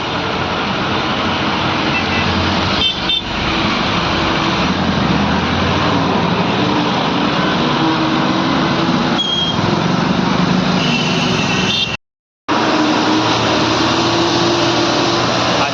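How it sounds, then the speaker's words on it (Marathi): A broken-down truck sits on the highway at the Datta temple corner in Khambatki ghat, and its engine gives a loud, continuous rumble mixed with road noise. The sound cuts out briefly near the end, then resumes. "या ट्रकला वायरमॅन बोलवून त्याचे वायरिंग जोडलेली आहे याला आता हवा भरून बाजूला करण्यात येत आहे"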